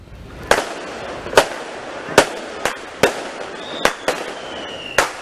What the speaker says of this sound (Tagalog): Bunsod ng ingay at usok na dulot ng paputok tuwing pagpapalit ng taon